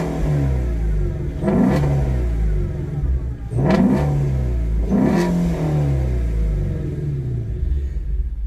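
A Ford Mustang GT350's flat-plane-crank V8 revs hard three times in a row, each loud blip climbing to a high, racy wail before it drops back to a rumbling idle, with no voices.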